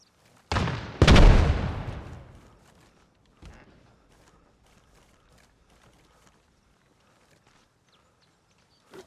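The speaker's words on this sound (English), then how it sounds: "I'll just pull out my rifle for these." Two loud rifle shots from Arma Reforger gunfire burst close together in a military combat setting, followed by a fading rumble, a faint later crack and quiet mechanical rattles.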